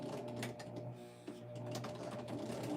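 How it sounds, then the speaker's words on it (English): A sewing machine zigzag-stitching over a fabric edge runs in a quiet, rapid mechanical whir with a rhythmic ticking needle beat and a brief pause midway. "I'm just going to zigzag over the edge"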